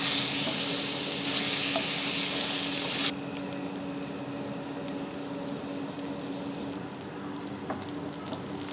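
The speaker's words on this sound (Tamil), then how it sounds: "இத நல்லா கிளறி விட்டுக்கலாம்." Egg fried rice, Madras style, cooking in a pan, giving a faint continuous sizzle and hiss with light stirring, steady and fairly quiet, no voices.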